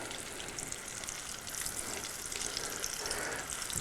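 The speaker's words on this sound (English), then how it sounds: "we're going to continue to let these fry and get golden brown" Apple fritters frying in a pan of hot oil, a steady, bright sizzle with crackling bubbles that continues without a break and gets slightly louder partway through.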